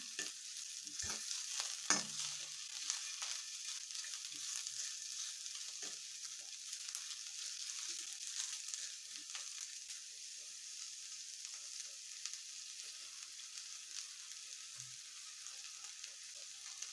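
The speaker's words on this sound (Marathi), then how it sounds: "लो टू मिडियम हीटवर गॅसवरच कांदा परतायचा आहे थोडासा असा पिवळसर कलर येईपर्यंत परतायचा आहे कांदा" Onion sautéing on low to medium heat in a pan on a gas stove for a cauliflower dish gives a faint, steady sizzle, with occasional soft scrapes and clicks of stirring.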